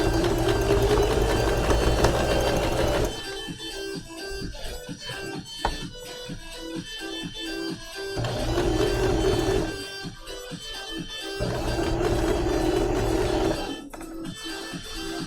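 A sewing machine stitching through several fabric layers runs close by in long whirring bursts, with a couple of short pauses between runs.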